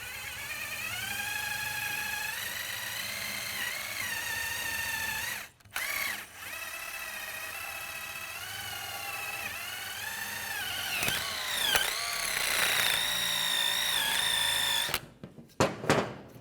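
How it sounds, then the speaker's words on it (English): A wire brush is worked hard against a corroded BMW X3 front brake caliper bracket, a continuous close scratchy grinding with short pauses and a few clanks near the end. "Just use a wire brush. Just try to get some of the corrosion off"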